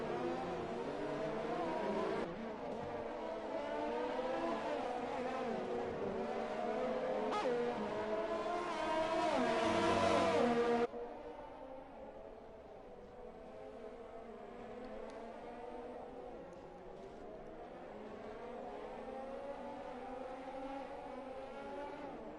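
F1 race cars from a video game run at the Singapore Grand Prix. A loud, rising and falling engine whine dominates, then drops abruptly to a quieter, steady engine drone for the rest of the clip.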